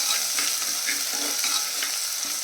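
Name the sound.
onions frying with ginger paste in a pan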